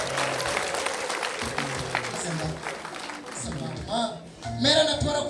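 An audience at a wedding claps together, a dense patter of applause under a voice talking over it, growing louder toward the end.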